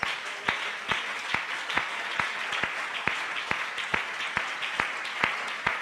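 A church congregation claps in unison to a steady beat, about two claps per second, rhythmic and moderately loud over a soft wash of background applause, with no one speaking.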